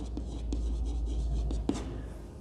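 Handwriting a word on a surface, heard as a series of soft scratchy strokes and taps in an uneven rhythm, close and quiet over a low steady background hum.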